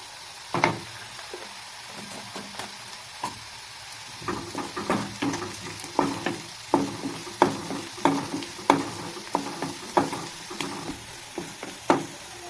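Fenugreek seeds sizzle in hot oil for a Kerala chena pulicurry, a yam and tamarind curry, while a spoon scrapes the pan in a steady rhythm about once a second, close by, with no talk.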